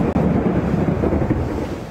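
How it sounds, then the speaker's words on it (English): A storm front rolls over Sydney with heavy gusts, giving a loud, continuous low roar of wind buffeting the microphone that may carry distant thunder, and no voices are heard. "For 2 days, the Bureau forecasting storms and this afternoon, they rolled in."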